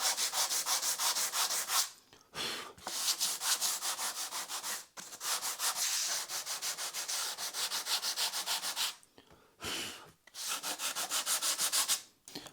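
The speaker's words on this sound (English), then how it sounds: "I've just got a bit of 240 grit sandpaper around a straight flat block just to clean up these fuzzies a bit." Steady rubbing strokes of 240-grit sandpaper wrapped on a flat block work over acoustic guitar wood, rhythmic and close, broken by brief pauses between passes, with no talking.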